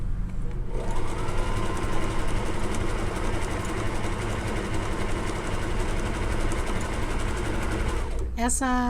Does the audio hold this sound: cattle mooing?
no